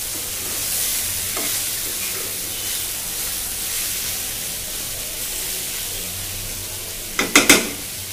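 Kachki fish with tomato being fried and stirred in a pan, a steady close sizzle with a few sharp scraping stirs near the end.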